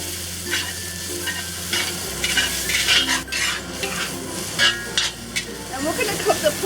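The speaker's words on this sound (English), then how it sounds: "next, we're going to cook up the pork" Pork stir-frying in oil in a pan at medium-high heat for Shanghai noodles, a steady sizzle and hiss with repeated scraping and clinking of a utensil against the pan, close and continuous.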